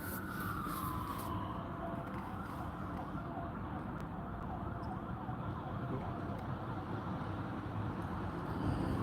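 An emergency vehicle siren wails through a town, its rising and falling tone sweeping steadily over road and traffic noise at moderate distance.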